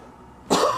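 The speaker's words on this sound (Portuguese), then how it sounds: "Desculpe pela tosse" A single sharp cough, close and loud, bursting out abruptly after a quiet moment.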